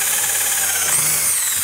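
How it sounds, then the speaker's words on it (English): A power drill runs continuously as it drives into a rub rail on a boat, a loud, close whine with a slight rise in pitch partway through, and no talk. "We'll go ahead and drill one of these in."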